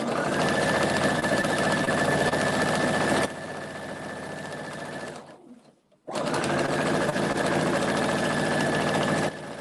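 Sewing machine stitching fabric scraps together for a pillow, a loud continuous whirring run that stops briefly near the middle, then resumes at full speed, close by and alone.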